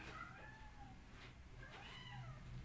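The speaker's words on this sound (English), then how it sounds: "The cat is wild." A cat meows a few times up close, with drawn-out, rising and falling wails over a low background hum, and no one talks over it.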